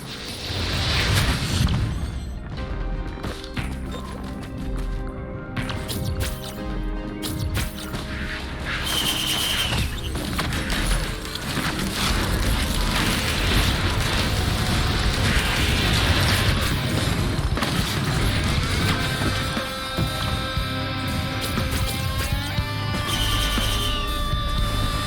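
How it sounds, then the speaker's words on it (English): In the video game Risk of Rain 2, firework items burst in a dense barrage of pops, booms and crackles that runs for the whole stretch, loud and busy over a layer of game noise. "Ah, the humble firework."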